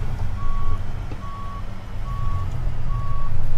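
A heavy truck in American Truck Simulator backs up with four evenly spaced electronic reversing beeps over a steady low engine rumble.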